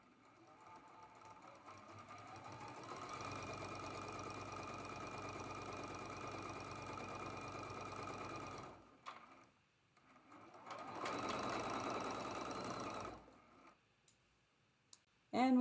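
A sewing machine runs steadily for about nine seconds stitching a quilt block seam, pauses, then hums again for a shorter burst before stopping, with light clicks at the end.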